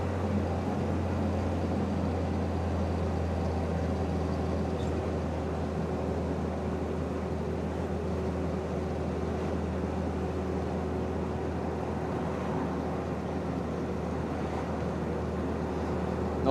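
A Willys Jeep drives along the coast toward North Berwick, with a steady low engine drone and road rumble held at an even level throughout and no talk.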